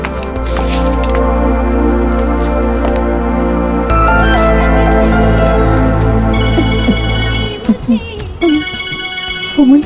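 A mobile phone ringtone plays loud and close as a repeating electronic melody. It changes tune partway through, and brief squishy noises break in near the end.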